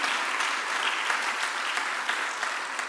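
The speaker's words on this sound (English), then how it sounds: "a big applause just for Pilar" Conference audience at an open science fair applauding for Pilar, a steady, even wash of many hands clapping throughout, moderately loud and without speech.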